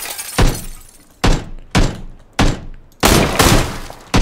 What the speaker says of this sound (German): ich schieße voll gegen diese blöden Latten im Fenster.